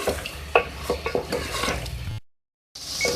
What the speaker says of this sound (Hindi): इसको मिक्स करेंगे और थोड़ा कुक करेंगे।